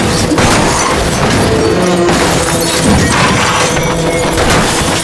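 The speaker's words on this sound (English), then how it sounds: "who smashed their vehicle with his own." A car deliberately rammed into another car on a road in a film, a loud, violent crash of crunching metal with heavy impacts and rattling debris that carries on for several seconds.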